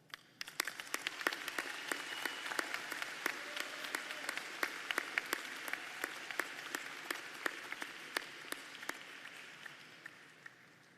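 Applause for graduates at a university diploma ceremony: sparse, distinct claps from a modest crowd in a large hall, steady for several seconds before tapering off.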